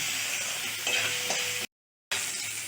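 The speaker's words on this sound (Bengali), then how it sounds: "এবার আলুটাকে আমি একটু ভেজে নিচ্ছি।" Diced potatoes with salt and turmeric fry in a pan, a close, steady sizzle with occasional stirring scrapes, broken by a brief silent gap before the hiss resumes.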